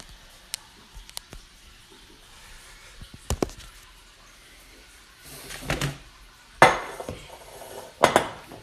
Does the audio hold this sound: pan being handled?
yes